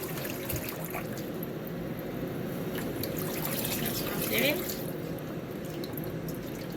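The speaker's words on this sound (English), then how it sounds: "So I'm just rinsing it each time until this water becomes clear." Cold water runs and trickles steadily over rice being rinsed in a pot or bowl, a continuous close pouring wash, with a voice speaking briefly over it.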